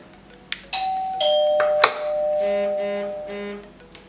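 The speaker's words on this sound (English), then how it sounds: "Someone rang on your doorbell." A doorbell chimes a two-tone ding-dong, followed by a longer multi-note electronic chime melody ringing out clearly with no voices.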